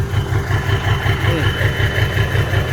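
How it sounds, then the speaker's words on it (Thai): A modified car with an aftermarket exhaust and big tyres idles nearby, its steady, lumpy low rumble pulsing evenly throughout. "อันนี้ท่อก๋วยเตี๋ยวเลยเนี่ย ท่อไอเสียครับ"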